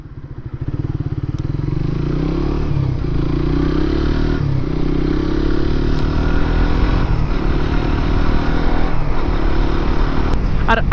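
A Suzuki GSX-R150 motorcycle cruising on a highway, its engine drone and wind rush loud and steady throughout with a faint clatter near the end.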